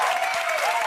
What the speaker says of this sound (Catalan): vull posar la part final en el que reps una gran ovació